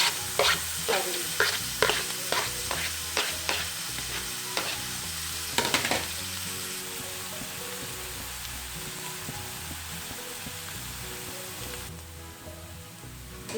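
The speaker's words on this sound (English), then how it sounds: "The shallots and the garlics is sorted really well." Crushed garlic, shallots and celery sauté in hot oil for a shredded fish stir fry, a steady close sizzle with a spoon tapping and scraping the pan in a rhythmic run over the first few seconds before the frying carries on alone.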